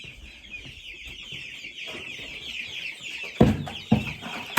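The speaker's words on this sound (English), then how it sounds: "Looks like we got hungry meat birds." Meat-bird chickens cluck and chatter nearby in a busy flock, with a couple of louder sharp clucks toward the end.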